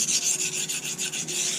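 A steel knife edge is ground freehand to raise a heavy burr, giving a steady rasping, rubbing scrape that repeats in even strokes, close and fairly loud, with no talking.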